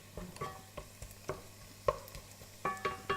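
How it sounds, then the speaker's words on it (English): Soft sizzling of onion and green chili frying in a pan, with intermittent clinks and scrapes of stirring, close and fairly quiet. "I just love the aroma of onion and green chili frying."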